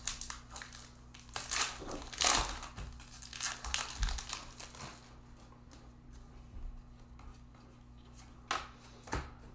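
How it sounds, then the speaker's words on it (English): Sports trading cards being sorted by hand, with crinkling wrappers and shuffling card stock, irregular close rustles and snaps that are louder early and fade toward the end, with no talking. "I'm sorting cards."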